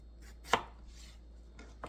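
A knife chops through potato, cutting it into French fry strips for lomo saltado: one sharp, loud board strike, then two softer cuts close by, with no talking.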